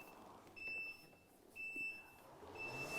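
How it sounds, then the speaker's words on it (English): Electronic rowing session timer giving three evenly spaced, sharp high-pitched beeps about a second apart, clear and fairly loud over a quiet room. "get ready for that big loud beep"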